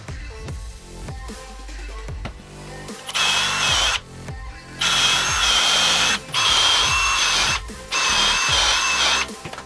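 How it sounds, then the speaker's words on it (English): A power drill whines close by in three sustained bursts, each grinding into wood while pre-drilling holes for lag bolts, separated by short pauses with quieter mechanical sounds underneath. "pre-drill the holes for the lag bolts that will hold them on"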